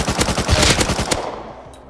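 An MP5 submachine gun in Rust lets off a rapid close burst of shots, loud and evenly paced, ending in a brief tail as the fire stops.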